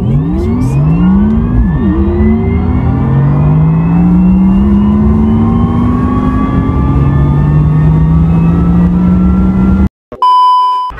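Wuling Air EV electric car accelerating smoothly from inside, its loud motor whine climbing steadily in pitch for about ten seconds, then cutting off before a few short electronic beeps.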